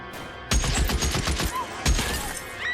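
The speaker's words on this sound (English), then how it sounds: "That sounds like a lot of gunshot" Video game gunfire in LA Noire rattles in rapid bursts, an automatic volley followed by another shot, loud and close, with faint whistling effects.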